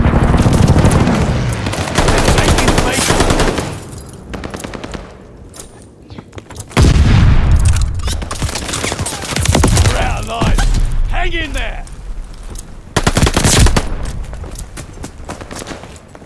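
Call of Duty Vanguard strafing run: bursts of rapid machine-gun fire rattle loudly across the battlefield, coming in several waves with brief lulls between, mixed with thuds and game voice chatter.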